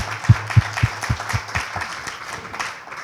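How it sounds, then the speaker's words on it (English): A panel audience at the Briscoe Western Art Museum gives a brief welcoming round of applause for the panelists and moderator, a few distinct claps that quickly fade into soft, scattered clapping and room noise. "join me in a welcome round of applause for our panelists and our moderator for today"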